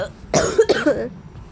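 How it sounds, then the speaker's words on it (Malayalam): A person coughs twice in quick succession, close and fairly loud, with nothing else heard. "എനിക്ക് ഇച്ചിരി ചുമയുണ്ട് അത് മൈൻഡ് ആക്കണ്ട"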